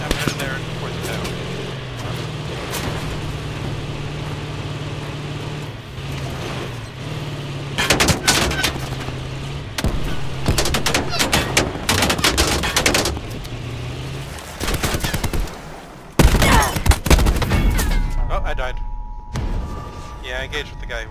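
Gunfire in the battle royale mode Blackout of Call of Duty Black Ops 4, with bursts of shots and game effects over steady background noise, while players talk throughout.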